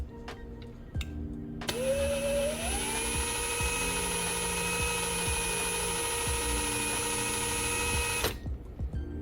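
A power drill drilling out rivets on a Hot Wheels die-cast toy car whines at high speed for several seconds, pitch rising as it bites in, steady and close, then cuts off abruptly.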